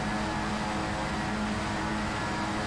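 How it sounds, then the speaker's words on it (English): Racing car engines rev on the grid at Snetterton in a sim racing game, a steady dense engine drone that holds at an even level with no talk. "The engines are revving, the red lights are on."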